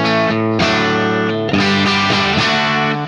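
Electric guitar driven through a NERO fuzz pedal into a JTM45 amp model, playing thick, saturated chords and notes in a steady loud phrase with a brief break near the middle, no voices.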